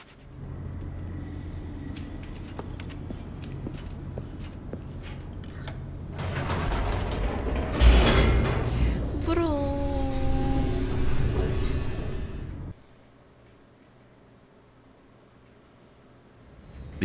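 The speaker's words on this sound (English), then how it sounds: "The elevator raced downward" A descending elevator in The Stanley Parable video game rumbles with mechanical clatter, then swells into a loud roaring rush with a falling whine before cutting off abruptly to a quiet hum.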